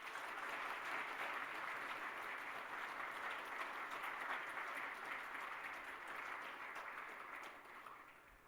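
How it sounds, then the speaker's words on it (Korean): A church congregation claps warmly during a Korean Sunday worship service, a steady wash of applause from many hands that holds through and fades slightly near the end, with no talking. "우리 다 같이 뜨거운 박수 하시겠습니다"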